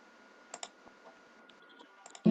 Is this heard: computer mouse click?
yes